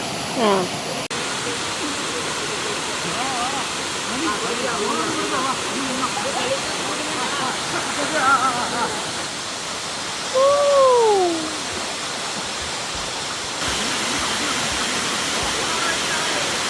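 A waterfall roars as a steady, broadband rush of falling water, constant and fairly loud throughout, with a few faint bird calls and brief voices over it.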